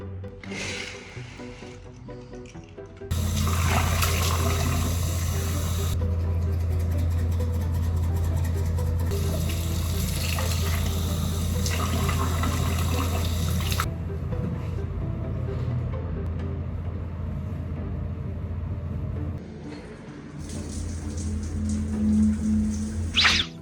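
Shower water running steadily during bathing, a dense hiss of spray hitting the floor that starts abruptly after a few quiet seconds, holds loud and close, then eases and briefly returns near the end; no speech.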